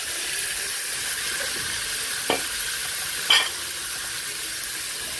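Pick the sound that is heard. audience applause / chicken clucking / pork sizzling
pork sizzling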